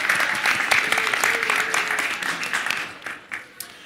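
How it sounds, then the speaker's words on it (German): A live audience at a campus stage event applauds the moderator, a dense wash of clapping that stays loud for about three seconds before thinning out into a few scattered claps, with a faint voice briefly heard. "Ein Applaus für die Moderation auch nochmal."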